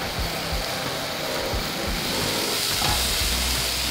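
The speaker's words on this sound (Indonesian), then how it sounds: "ini kita akan tumis sampai wangi, sampai minyaknya keluar lagi kayak gini" Spice paste sautéed in oil until fragrant, for spicy shredded chicken filling: a steady, close hiss of frying with a few soft stirring scrapes, fairly even throughout.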